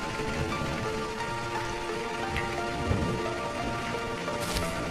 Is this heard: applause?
no